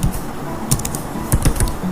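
Quick clatter of typing on a computer keyboard while building a bill book in MS Word, irregular clusters of close, crisp key taps with brief pauses between bursts.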